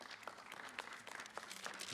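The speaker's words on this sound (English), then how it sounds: "Let's give them a round of applause once more." Applause at a municipal debate event, a steady broadband patter of clapping from a moderately distant audience, sustained and fairly quiet throughout with no talking.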